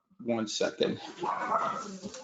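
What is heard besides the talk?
dogs barking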